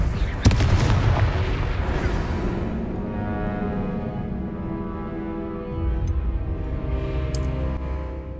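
Confringo blasting spell in the Hogwarts Legacy video game, a sharp explosive crack followed by a long rumbling boom that fades out, with faint game sounds after.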